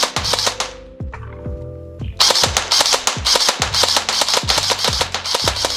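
An Evolution Ghost series airsoft rifle fires rapid bursts of sharp, close, snapping shots. A pause with a faint mechanical hum falls between the first volley and a longer, loud, fast rattling string of shots.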